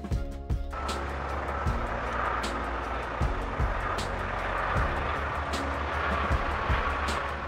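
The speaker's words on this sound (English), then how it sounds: "Lockheed Martin P-3 Orion. Not the biggest, but definitely the most alert." A Lockheed Martin P-3 Orion aircraft makes a low, steady drone with some rumble, and short thumps and clicks cut through it now and then, all at moderate loudness.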